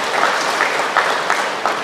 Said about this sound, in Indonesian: Tepuk tangan jo tiwani